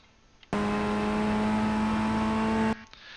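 Ray FF1600 race car engine in iRacing at Hockenheimring Short A, a sudden loud steady tonal drone as the throttle opens, held for about two seconds and then cut off abruptly, alone without talk.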